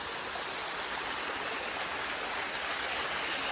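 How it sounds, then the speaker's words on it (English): Constant rushing water from a small waterfall on the West Highland Way fills the clip, a steady broadband splash with no breaks, moderately loud and nearby. "we have had a couple of these smaller waterfalls"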